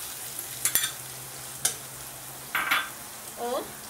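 Boiled green peas tipped into cabbage and potatoes frying in a pan: a few separate stirring scrapes and clatters over a soft background sizzle, close and fairly quiet, with a brief rattle near the end.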